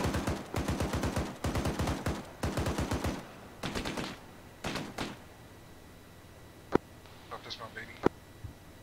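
Rapid bursts of automatic gunfire in a military video game, loud and close, firing in repeated clusters for several seconds, then a couple of sharp single shots and faint background noises.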